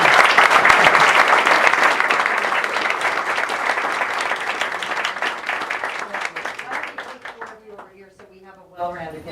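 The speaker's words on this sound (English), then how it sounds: "So once again, a round of applause and a round of applause for them." Audience at a school Board of Education meeting applauding award recipients: loud, dense, sustained clapping that gradually thins and fades over about nine seconds, ending in near quiet.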